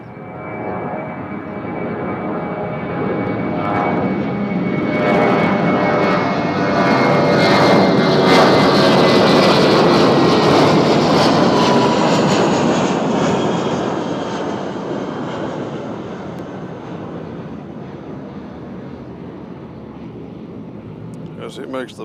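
Southwest jet airliner taking off from runway 2 left at Nashville International Airport, a loud broad engine roar that swells to a peak midway and then slowly fades as it climbs away, with radio chatter underneath.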